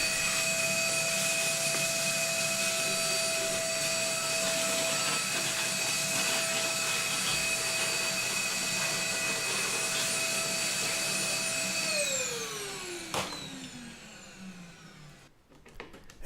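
A vacuum cleaner runs steadily with a loud, whining drone while cleaning off a metal dance pad, then spins down with a falling pitch and stops near the end.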